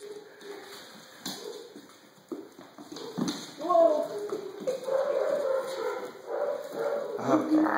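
Small puppies whimper and yip in short, high bursts, close by, mixed with voices talking and some shuffling.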